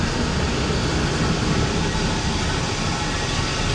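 Steady broadband rumble and rattle from inside a moving train in Thailand, continuous and fairly loud with no talk over it.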